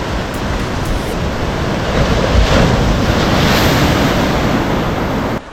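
Strong sea waves at Someshwara beach roar as a continuous, loud, broadband surge, rising slightly midway and mixed with gusting wind noise on the microphone, no voices, cutting off abruptly at the end.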